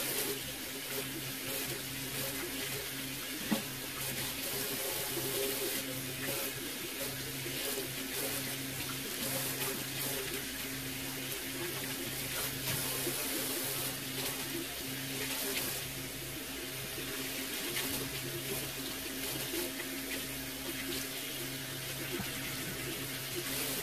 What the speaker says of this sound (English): See all that conditioner rinsing off.